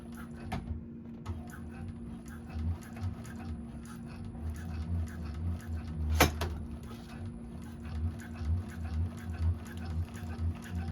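A 1341 cylinder arm sewing machine back stitching TPU vinyl, a soft steady patter of needle strokes running continuously at low volume, with one sharp click midway.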